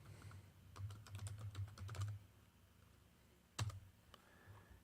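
Faint computer-keyboard typing of a host name, with a quick burst of clustered keystrokes followed by a pause and a single louder key press, heard alone in a quiet room.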